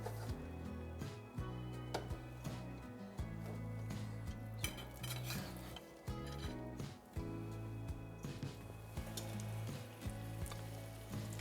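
Salmon patties fry in oil in a pan with a steady, loud sizzle, broken by clinks and knocks as they are placed and moved.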